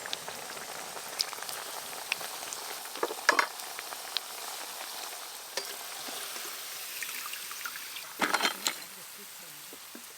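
Raw potato snacks deep-frying in hot oil give a steady soft sizzling hiss with scattered pops and a brief louder crackling burst near the end.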